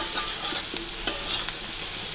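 Potatoes frying in hot oil with whole cumin, bay leaf and green chilli, a steady close sizzle with a few soft stirring scrapes and clinks throughout.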